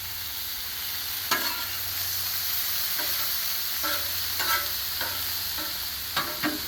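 Steak bites in oil sizzling on a Blackstone griddle, a steady hiss punctuated by several sharp scraping stirs of a spatula on the metal surface.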